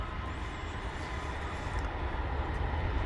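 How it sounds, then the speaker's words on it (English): A Volaris Airbus A320 airliner at Dallas/Fort Worth Airport gives a steady low jet-engine roar, a broad even rumble heard from a distance without any talk. "that, ladies and gentlemen, is an Airbus A320"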